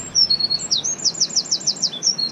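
Birds chirp and sing on a calm, windless morning beside a tench pond, a quick run of repeated high tweets and trills, fairly close and clear over a faint low background hush.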